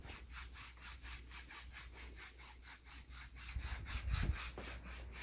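A foot file rasps back and forth over rough heel skin during a home pedicure, steady rhythmic strokes close up, ending with a few heavier rubs and a low bump.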